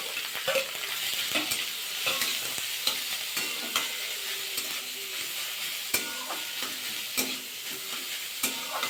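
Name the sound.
grated cauliflower and carrot frying and stirred in wok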